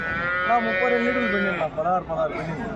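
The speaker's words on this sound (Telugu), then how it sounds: "చాలా చాలా భారీ ఆవు ఒకటి" A large Punganur cow at a cattle market gives a drawn-out, close moo, followed by shorter, broken calls, with market voices around it.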